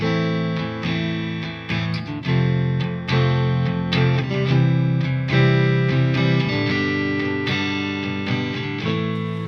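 Distorted electric guitar strums full chords in a steady progression, loud and dense, with rhythmic strikes changing chord every couple of seconds.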